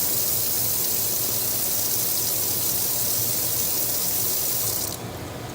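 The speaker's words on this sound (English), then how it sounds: "I'm going to turn the water on in the sink and put it out" Kitchen sink faucet gushing water in a steady broadband rush close by, cutting to a quieter flow near the end.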